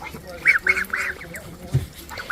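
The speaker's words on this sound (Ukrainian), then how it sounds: "Ще он там качечки." Ducklings on a small Ukrainian duck farm give a quick run of high, close peeping calls, followed by a brief low voice and more faint peeps.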